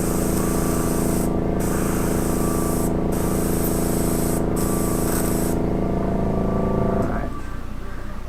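An airbrush sprays paint onto a homemade guitar in a loud, steady hiss over a compressor hum, cut off briefly a few times before the spray stops near the end.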